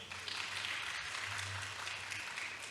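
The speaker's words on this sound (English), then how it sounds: "clap if you want to be a writer at some point" Audience at the Kerala Literature Festival claps in a dense, steady wash for nearly three seconds, fairly quiet and even throughout, with a low hum underneath and no voices.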